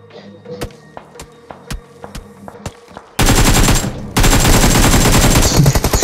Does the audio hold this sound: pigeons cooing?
no